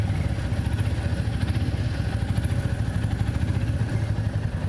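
A Royal Enfield Meteor 350 motorcycle idles while stopped in traffic, its single-cylinder engine thumping in an even, steady rhythm with a light mechanical clatter, close by and unbroken.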